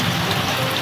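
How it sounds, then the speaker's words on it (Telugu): Heavy rain pouring down in a village, a dense, steady hiss of drops striking surfaces, loud and continuous with no voices. "ఫుల్ పడుతుంది వర్షం అయితే ఇక్కడ"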